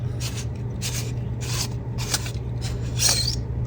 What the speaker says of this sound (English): let's unscrew this guy real quick